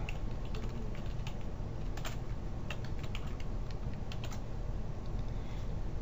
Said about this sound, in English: In the search box I will type solar power.